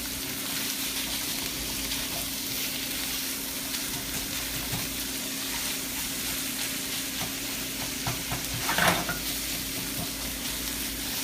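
Ground pork frying in a pan for a basil dish, with a steady sizzle and scraping stir strokes throughout, plus a brief louder clatter near the end.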